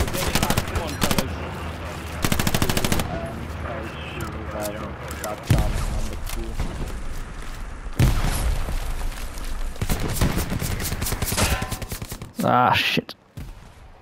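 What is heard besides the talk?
gunfire in Hell Let Loose video game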